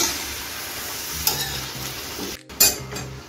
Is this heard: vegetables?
yes